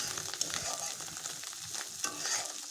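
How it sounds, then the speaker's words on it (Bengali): Fish roe frying in a pan, a close, quiet continuous sizzle with occasional stirring scrapes and small pops. "উল্টো পাল্টে ভেজে নিচ্ছি।"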